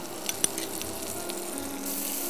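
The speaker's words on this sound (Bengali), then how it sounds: "পেঁয়াজটা একটু ভাজা হতে হতে আমি চিকেন উইংসগুলোকে উল্টে দিচ্ছি।" Chopped onion and garlic fry in melted butter and oil, giving a soft steady sizzle with a couple of faint clicks from a utensil, and the hiss grows brighter toward the end.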